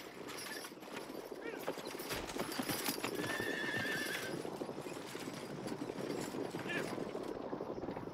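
Horses gallop hard in sand while pulling a coach during a stunt, with a dense, continuous drumming of hooves, a whinny partway through, and a steady loud roar throughout.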